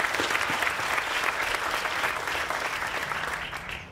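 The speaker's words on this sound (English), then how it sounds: "Let's give all of our lifers a round of applause." A school graduation audience at Buckley Country Day School claps in a dense, steady round of applause for about four seconds, tapering slightly at the end.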